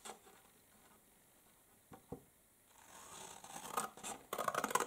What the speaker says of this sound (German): Und die schneide ich mir einfach nur schön ein.